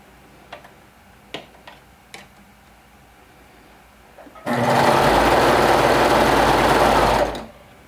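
A sewing machine stitches a skirt hem: a few soft clicks first, then a close, steady whirring run of about three seconds that stops abruptly.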